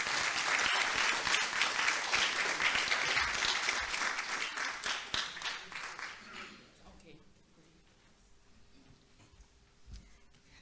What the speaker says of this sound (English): Let us give Kelly another round of applause for that excellent presentation